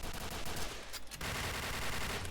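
Rapid gunfire from a shooting video game rattles in quick bursts, loud and close, with a brief gap near the middle before the shots resume, and no talk over it.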